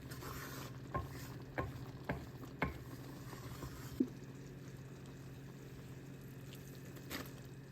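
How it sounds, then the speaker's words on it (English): Cheeses stirred into a creamy pasta sauce in a pan, with a quiet sizzle underneath and several soft scraping knocks of the spoon against the pan. "We're gonna go ahead and add some of the remaining ingredients like the cheeses, and we're gonna stir this."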